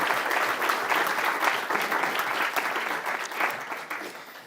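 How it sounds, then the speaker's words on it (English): Conference audience applause after a talk, a moderately loud, steady round of clapping that eases slightly as it nears its end. "We all give Emily another round of applause"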